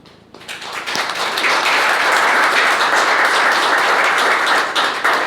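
Applause from an audience at a township council meeting, starting quietly and swelling within a second into steady, dense clapping that holds loud and even to the end.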